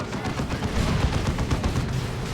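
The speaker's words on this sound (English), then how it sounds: "Grey Knight Dreadnought with the plasma cannon still going." Heavy weapons fire from a Grey Knight Dreadnought's plasma cannon in Dawn of War 2, a dense continuous barrage of loud crackling blasts and booms with no voices over it.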